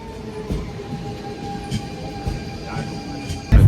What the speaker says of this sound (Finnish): Nyt päästiin metroon.